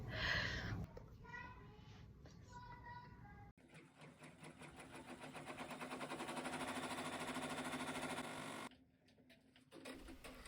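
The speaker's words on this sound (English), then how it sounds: "Right now it is stitching out the placement of the letters" An embroidery machine stitches out letter placement on a poly twill appliqué sports jersey, running a fast, steady mechanical chatter for several seconds. It stops and starts between runs, with faint talk in the background.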